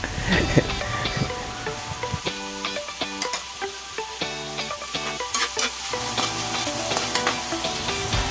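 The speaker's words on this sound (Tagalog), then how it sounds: "na rin tayo magigisa ng bawang at sibuyas. Samahan na rin natin ng kamatis" Garlic, onion and tomato sauté in a pan for monggo, a continuous close sizzle with stirring clatter, while a melodic background track and metallic tapping carry through.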